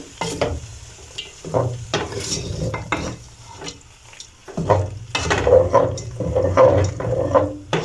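Spoon stirring pasta through a creamy white sauce in a pan, a steady wet scraping and soft sizzle that swells in repeated strokes, with a few clinks against the cookware and no talking.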